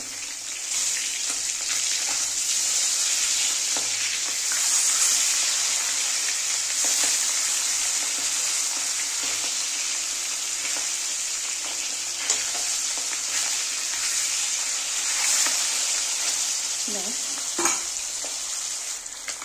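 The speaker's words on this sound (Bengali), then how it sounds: "দেখো মাছগুলো ভাজা হয়ে গেছে" Steady loud sizzling of boal fish frying in oil, with occasional scraping stirs and a faint clink near the end; no voices.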